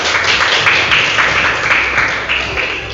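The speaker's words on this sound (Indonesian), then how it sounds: "Berikan aplaus." A classroom of students claps in a brief burst of dense, steady applause lasting a few seconds, close and loud.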